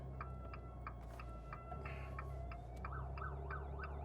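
An ambulance siren wails in a repeating up-and-down pattern at moderate distance in Bruges, steady over a heavy low engine rumble and traffic noise.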